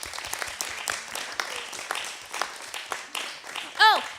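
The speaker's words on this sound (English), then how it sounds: "a round of applause for Denise" Applause from an audience at a humor talk on stage, a dense patter of many hands with voices and cheers mixed in, ending in a brief whistle-like tone.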